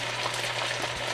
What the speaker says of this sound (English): that is just gonna sit there and sizzle